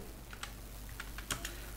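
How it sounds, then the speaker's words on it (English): Quiet computer keyboard typing while commands are entered at a Windows 10 command prompt: a few scattered, light key clicks over a steady low hum, with no voices. "you need to type some commands which were like this"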